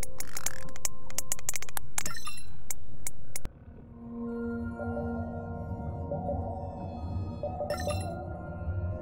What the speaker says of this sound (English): Juvenile dolphins.